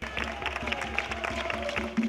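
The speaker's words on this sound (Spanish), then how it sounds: "Los aplausos no se hacen esperar cada vez que el público de Maates los ve ensayar." An audience applauds a dance rehearsal with a brisk, steady patter of clapping hands that carries on without a break, moderately loud and fairly close.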